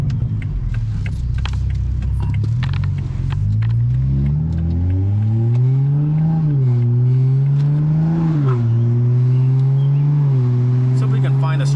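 A 2020 Toyota GR Supra engine revs up and settles repeatedly, its loud, close rumble rising and falling in pitch through several throttle blips and then holding a steady idle-like drone.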